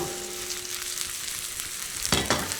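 Chopped onions and red pepper flakes frying in a pan give a steady, close crackling sizzle, then two stirring scrapes near the end.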